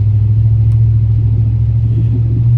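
A riding lawn mower engine runs outdoors, a loud steady low drone with a constant hum and rumble, close and unbroken, with no voices over it.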